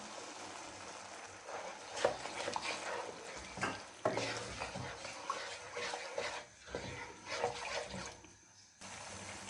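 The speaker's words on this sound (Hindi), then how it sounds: "ये मैं चमचा चला रही हूँ।" A spoon stirs sugar syrup with oil in a pan for makhandi halwa: a close, wet sizzling hiss with repeated scraping strokes that swell and fade, dropping quiet briefly between strokes.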